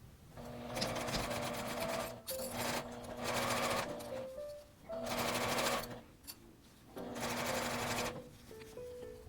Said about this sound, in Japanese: 合わせたところを1センチの縫い代で縫います。